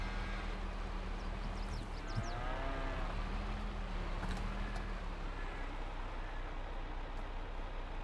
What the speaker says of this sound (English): A lot of cows in here now.